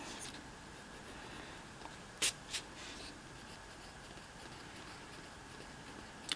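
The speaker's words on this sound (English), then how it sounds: "we'll erase the outline we put in the beginning" An eraser rubs a pencil outline off paper, a quiet, steady scratchy scrubbing broken by a couple of sharper brushing strokes near the middle.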